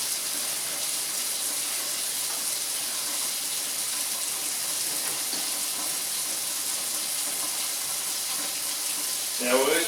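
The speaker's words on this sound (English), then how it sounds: "I'm going to pour some really hot water through my colander" Really hot water pours steadily through a colander into a kitchen sink, a continuous loud splashing hiss held for several seconds, with a brief voice at the very end.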